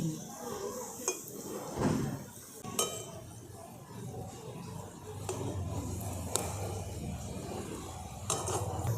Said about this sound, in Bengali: দেখুন একদিকটা ভাজা হয়ে গেছে, এরপর আমি উল্টে দিচ্ছি।